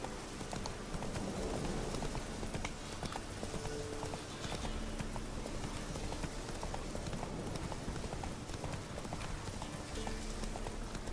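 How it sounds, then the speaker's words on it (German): Horse hooves clip-clop steadily and continuously in The Witcher 3, a fast, even gallop-like patter sitting under a dense wash of ambient game noise, close and fairly loud throughout. "dann nehmen wir das Pferd mal und fahren mal zum Flüsterhügel."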